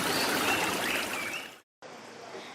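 A river flows steadily with a broadband watery rush that holds for about a second and a half, drops out briefly, then resumes a little quieter.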